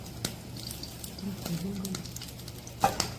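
An ingredient dropped into hot frying oil bubbles and sizzles with a soft, steady crackle, while a voice talks over it and a brief clatter sounds near the end.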